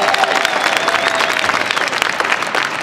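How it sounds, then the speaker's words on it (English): Conference audience at ASTC 2013 in Albuquerque applauds the host committee chairman, a close, loud, continuous patter of many hands with a faint tone running underneath. "the one that deserves the biggest round of applause right now"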